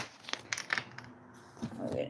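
A quick riffle of cards shuffling, a short papery burst with soft clicks, near and fairly quiet.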